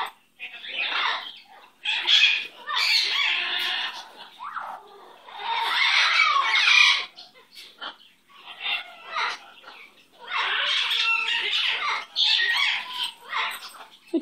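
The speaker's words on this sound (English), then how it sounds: "You're such a good bird. What an amazing bird you are." Sasquatch, a pet bird, gives loud, harsh squawks and chattering calls in repeated bursts close by, with brief gaps between them.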